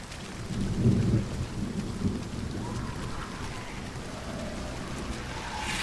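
Heavy rain pours steadily in the Hunt Showdown video game, with deep rolling thunder swelling early and a dense, continuous downpour hissing throughout at close range.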